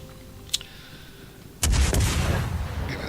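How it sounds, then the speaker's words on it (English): HMS Belfast's rear guns fire in World of Warships: a heavy, booming salvo breaks in abruptly and rolls on as a sustained rumble, preceded by a brief sharp crack. "I'm firing with just the rear guns"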